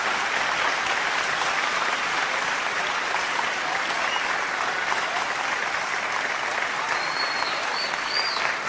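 Enthusiastic applause at a mushaira poetry recital in Dubai, a thick, sustained roar of many hands clapping that holds steady from start to finish.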